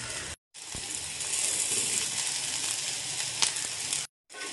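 Okra frying in a pan with a little mustard seed for okra pachadi gives a steady, bright sizzle with faint crackles, continuous and close, broken by two short gaps of silence.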